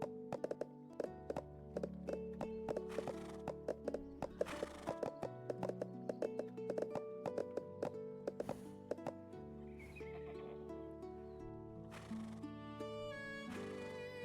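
Hooves clip-clop in a steady, quick rhythm with several whinnies from a horse in the Storm Horse Simulator video game, set over a continuous musical backing and heard clearly throughout.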